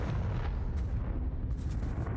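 Confringo fire-blast spell in Hogwarts Legacy on PC, a dense rumbling burst of explosions with deep booming low end and crackling, continuous and loud with no talk.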